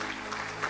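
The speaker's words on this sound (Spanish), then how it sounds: "Démosle un aplauso a nuestro hermano Ali" A congregation claps for a visiting brother at a church service: brief, steady, diffuse applause at moderate level.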